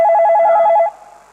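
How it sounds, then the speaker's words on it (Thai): A telephone rings with a rapid electronic warble, one loud ring burst of under a second that cuts off sharply and leaves near-silence, with no talk over it. "โทรศัพท์มา"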